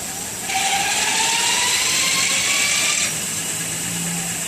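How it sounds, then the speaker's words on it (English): An electric bike hub motor spins up when the throttle is pushed, giving a close, rising high-pitched whir that holds for a few seconds and then drops back to a quieter hum. "That's the motor."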